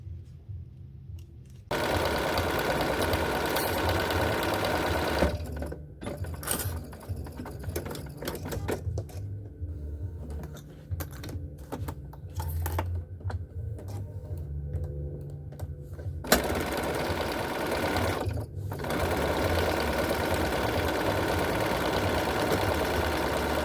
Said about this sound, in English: So we're going to be stitching sides and the bottom, 3/8 inch seam allowance.